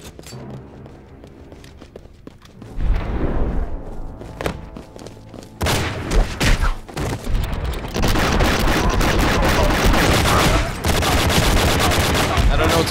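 Rapid gunfire in the Enter The Matrix video game: scattered single shots at first, then dense, sustained bursts of loud overlapping reports with heavy thuds underneath.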